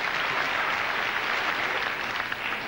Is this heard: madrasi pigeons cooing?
no